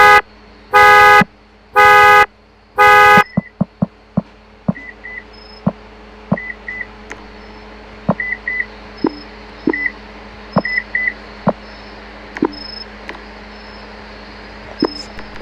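A Lexus car alarm goes off with three long, loud honking blasts, then settles into a repeating pattern of short chirps and beeps spaced a second or so apart, with no voices heard.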